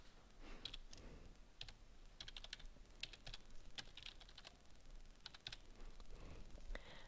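Someone types a name on a computer keyboard: quiet, close keystrokes in irregular short bursts and single taps, faint against a soft background hiss, with no voices.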